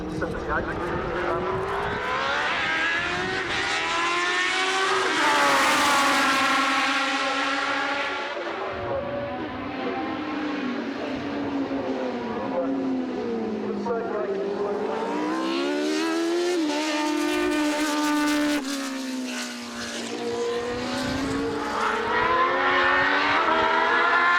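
Racing cars at the CTL Festival at Snetterton roar past one after another, engines rising and falling in pitch as they approach and recede, with a commentator talking over the noise.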